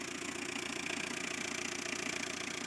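Tata diesel engine idling smoothly: a steady, close, even mechanical drone with a fast regular knock-like pulse, no voices.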